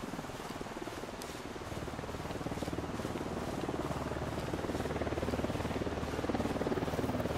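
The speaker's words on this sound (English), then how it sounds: "UNIDAD chopper, stay low." A helicopter in the Ghost Recon Wildlands video game drones with a steady low rotor thrum, holding an even, fairly loud level throughout without any talk.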